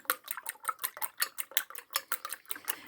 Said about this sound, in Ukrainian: я збиваю яйця